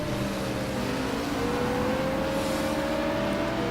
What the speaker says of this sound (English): I'm on board listening to the engine.